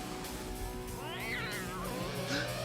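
A cat meows twice in a scene from the 1992 horror film Sleepwalkers, drawn-out wavering cries over a dense, steady film soundtrack, moderately faint.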